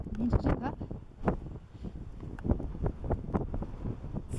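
Strong winter wind gusts across a Cornwall clifftop path, buffeting the microphone in rough, continuous blasts while a person talks over it throughout.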